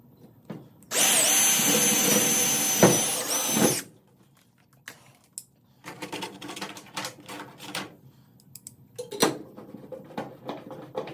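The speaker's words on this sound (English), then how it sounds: "that big loud pop as I push through the drill bit" A loud, high-pitched power drill whines steadily for a few seconds as the bit pushes through an aluminum jon boat hull, then stops, followed by intermittent clattering and rattling of metal.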